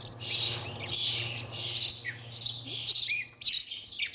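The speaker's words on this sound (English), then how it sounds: "These chaffinches and sparrows are greedy little customers." Chaffinches and sparrows chirp busily in quick overlapping bursts of bright tweets, close and fairly loud, over a faint low steady hum.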